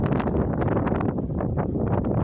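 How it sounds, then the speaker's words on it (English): Strong wind buffets a camera microphone outdoors beside railroad tracks, producing continuous low rumbling gusts that fill the whole clip. "I've got windy conditions out here."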